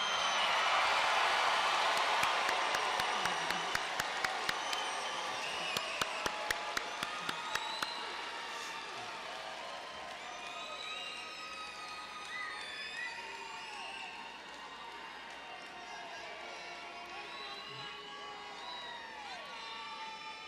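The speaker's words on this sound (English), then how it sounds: "Can we please give this class all their due applause and flowers?" An audience at the Russell County High School class of 2025 graduation cheers and claps loudly for the graduating class, with sharp claps at first. The crowd noise then fades into scattered whoops and chatter.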